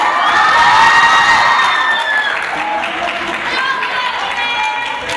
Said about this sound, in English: Can you cheer and clap again for the news?